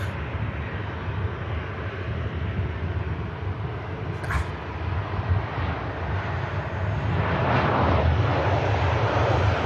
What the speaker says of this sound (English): EasyJet just touching down from Innsbruck